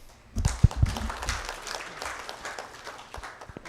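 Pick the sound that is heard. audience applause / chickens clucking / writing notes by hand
audience applause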